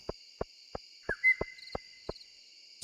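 An owl in the video game Stardew Valley calls at night, a soft repeated hoot pulsing at an even rhythm about seven times over a steady high insect-like drone, with no voices.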